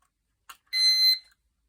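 A digital kitchen timer gives a short click, then a single sharp electronic beep of about half a second, close and clear against silence.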